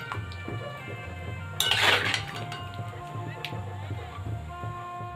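Biryani potatoes and saffron are stirred in a cooking pot, with a spoon scraping and a bright metallic clink partway through, then softer clatter.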